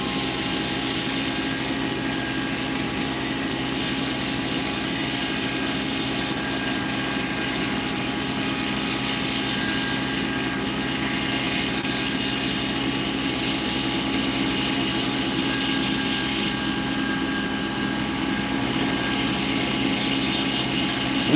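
Antler being sanded on a lathe for pen turning at higher grits, a steady close whir of the spinning lathe with a constant abrasive hiss running continuously without pause.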